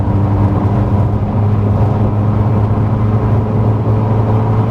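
A steady, loud engine drone and exhaust rumble from inside a Peugeot 308 GTi hatchback accelerating past 60, holding constant with road noise and no talking.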